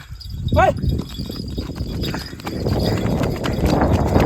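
Rapid hoofbeats of a running bull being trained for bullock-cart racing clatter close by over steady outdoor noise, with a brief high animal call near the start.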